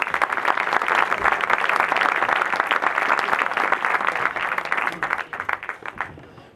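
An audience applauds Benjamín Soriano as he is invited onstage at a presentation: dense, loud clapping from a crowd that holds steady, then thins out and fades near the end.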